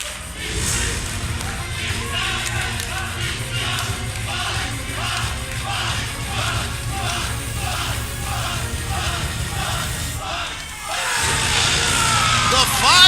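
A wrestling arena crowd chants rhythmically for Anthony Bowens at a Capitol Wrestling event, a steady pulsing chorus repeating about twice per second, with the chant breaking near the end into louder cheering under commentary.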